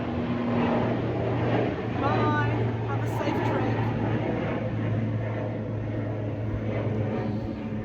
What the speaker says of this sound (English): Plane going over, 1 moment.